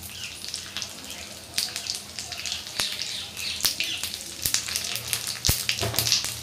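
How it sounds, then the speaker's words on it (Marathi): Mustard seeds crackling in hot oil for a chutney tempering, a continuous close sizzle dotted with sharp irregular pops and spatters, growing busier toward the end. "आता आपण चटणीला फोडणी देऊया। मोहरीची फोडणी देऊया।"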